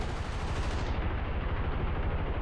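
A 30mm cannon hammers away in War Thunder, a fast continuous stream of heavy rounds, loud and unbroken for a couple of seconds, alone without speech.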